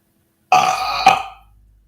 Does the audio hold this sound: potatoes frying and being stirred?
no